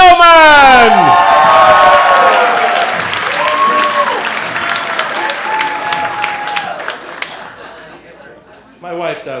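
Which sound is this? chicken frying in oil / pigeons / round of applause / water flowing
round of applause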